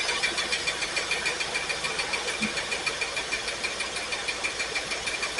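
Pontiac Firebird V8 idling with a dead number 8 cylinder, a close, steady rhythmic chugging with regular uneven pulses and no talking.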